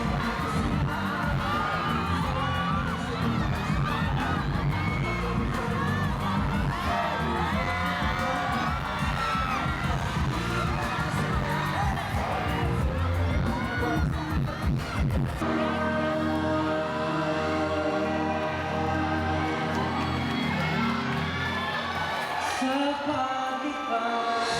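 A large crowd of fans at a concert shouts and cheers continuously, with high screams and whoops layered over a dense roar. About two-thirds of the way through, the crowd noise is overtaken by music.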